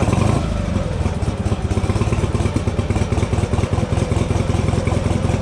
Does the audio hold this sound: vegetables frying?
no